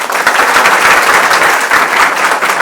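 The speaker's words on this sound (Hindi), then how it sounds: "तो अगेन इनके लिए एक ताली बढ़ती है।" Loud, dense applause from an audience at a results celebration for an SSC auditor candidate at an English coaching centre, a steady wash of many hands clapping that fills the whole stretch.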